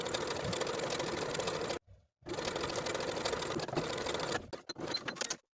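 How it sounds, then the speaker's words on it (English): Home sewing machine running a 3 mm by 3 mm zigzag stitch over elastic for a boho top: a fast, dense mechanical whir in long bursts, broken by a brief stop and a few short stutters near the end. "using a zigzag stitch with a length of 3 millimeters and a width of 3 millimeters, we're going to start our stitching"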